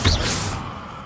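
One quick Bombarda blasting spell in Hogwarts Legacy: a sharp whooshing thump that hits hard at the start and then decays away within a second.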